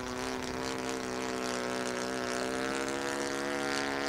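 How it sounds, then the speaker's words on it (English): Radio-controlled Piper Cub model plane in flight, its small engine droning steadily and fairly loud with a buzzing harmonic whine, holding a near-constant pitch with slight wavering that hints at a sputter. "did that motor sound good to you right just then? It's kind of sound like it sputtered a little bit."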